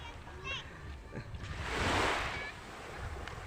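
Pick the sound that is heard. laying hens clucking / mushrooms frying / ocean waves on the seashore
ocean waves on the seashore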